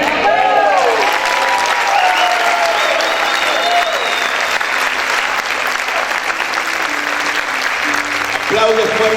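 A church congregation claps loudly and steadily in a dense, sustained wash, with held organ-like tones and a voice mixed in beneath the applause.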